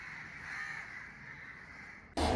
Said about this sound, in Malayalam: കാക്കയുടെ കരച്ചിൽ നിങ്ങൾ കേട്ടോ